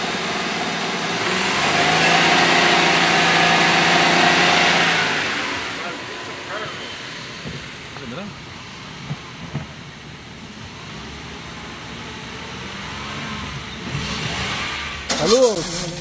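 A Suzuki Celerio with a faulty speed sensor has its engine revved, the note rising and holding loud for a few seconds before dropping to a rough idle, with a voice speaking over it near the end.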